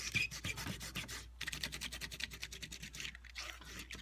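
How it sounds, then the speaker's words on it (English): A rubber cement eraser rubs dried masking fluid off watercolor paper, making quick, close, repetitive scratchy strokes in a steady back-and-forth rhythm, with a brief pause partway through and no voices. "Masking fluid picker up. Rubber cement eraser is what they're called."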